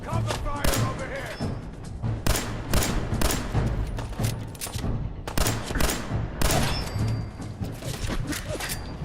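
Repeated loud gunshots and heavy booming bursts in Fallout 4, firing in uneven volleys every second or so, with a player's voice talking over the battle.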